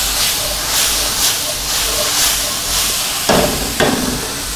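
Beef strips searing in a hot frying pan give off a steady, loud sizzling hiss that rises and falls slightly, with a couple of sharper stirring scrapes near the end.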